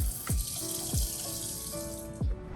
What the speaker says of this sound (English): This sink.